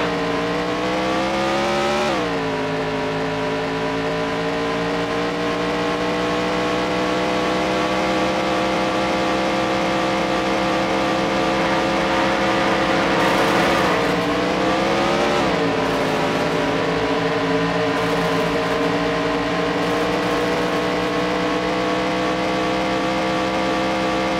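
Race car engines from the PS1 game Andretti Racing hold a steady high drone that dips and climbs again as gears shift, while other cars add brief overlapping whines, loud and continuous with no voices.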